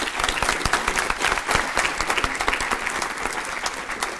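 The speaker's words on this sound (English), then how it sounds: "please give our panelists a big round of applause" A room full of people applauds the panelists at the close of a panel discussion on open citations. The clapping is dense and steady, fairly loud and close, and runs throughout without any speech.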